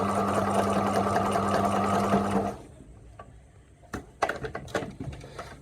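A sewing machine runs steadily for about two and a half seconds doing free motion embroidery, a close, even mechanical hum and rattle, then stops and is followed by a few light clicks and handling knocks.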